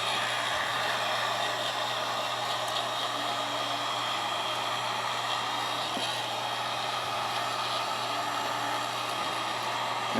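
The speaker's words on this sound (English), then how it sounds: "Now that it's cooled down to the touch, I'm going to start my heat gun again." A heat gun blows in a steady, loud broadband whoosh close by while boots are being polished, holding a constant tone with no talk for about ten seconds.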